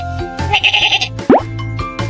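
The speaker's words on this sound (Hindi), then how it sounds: "बकरी कैसे बोलती है?" A goat bleats once, a short rising cry near and loud, set against a light children's music backing with soft tones.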